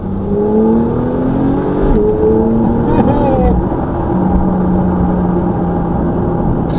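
A red Porsche in Sport Plus mode with manual shifting accelerates, its loud engine note climbing in pitch, briefly dropping at a gear change, then pulling on steadily from inside the cabin.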